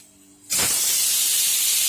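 A pressure cooker, used while cooking chickpeas for a homestyle chhole curry, suddenly lets out a loud, sustained hiss of escaping steam that starts abruptly after a quiet moment and holds steady, with no talking.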